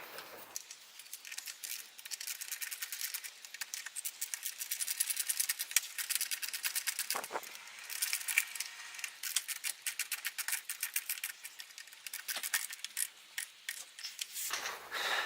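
Small screws with bushings being driven in by hand to mount a rain guard on a Zero S electric motorcycle, heard as close, continuous scratchy metal rubbing and clicking with brief pauses.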